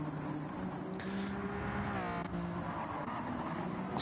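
Race car engines in a racing video game whine at high pitch, holding steady before one car shifts and climbs in pitch near the middle, a close, continuous mechanical drone without any talking.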